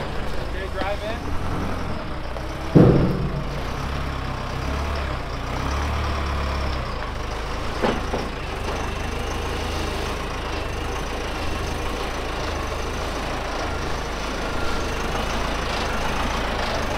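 A truck engine fires up and settles into a steady low idle, a deep continuous rumble with a brief louder burst near the start and faint voices in the background.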